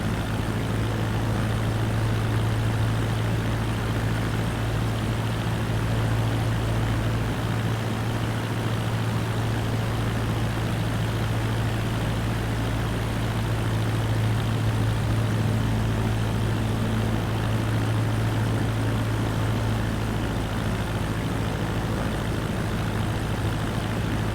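Steady propeller airplane engine drone in Microsoft Flight Simulator 2024 on final approach to land, a constant loud hum with a low tonal rumble throughout and no speech.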